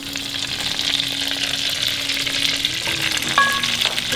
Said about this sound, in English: So in there I've got 1 tablespoon of butter, to which I'm going to add all the juices and the olive oil that was in here.